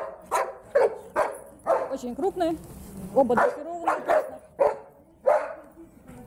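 Black German Shepherd dogs in Odesa bark in short, sharp, repeated bursts close by, mixed with someone talking over them.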